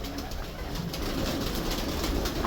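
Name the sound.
Lakhi female pigeon cooing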